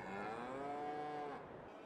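Cows in Farming Simulator give one long, drawn-out moo that rises and falls in pitch, fairly close and clear over a quiet background, with no talking.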